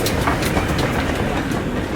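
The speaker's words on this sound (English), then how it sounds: "At Llangollen, volunteers and staff do still run goods trains at special steam galas." A steam goods train runs at Llangollen, rolling wagons giving a steady rumble with rhythmic clickety-clack beats from the wheels, close and loud.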